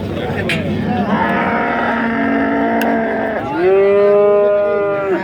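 At a cattle market in Nuronshoh, Mastchoh, cattle moo loudly in long, drawn-out calls over a steady, noisy crowd background.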